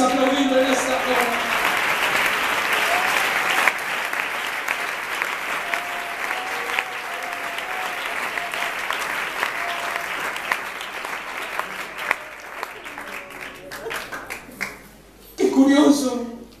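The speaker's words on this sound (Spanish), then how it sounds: "Aquí está el Señor, puedes aplaudirlo en esta hora." A congregation at a church youth camp in Spain claps continuously while a preacher talks and sings over the applause. A sharper burst of clapping rises near the end.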